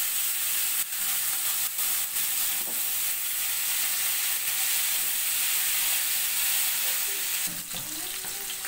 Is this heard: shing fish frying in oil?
yes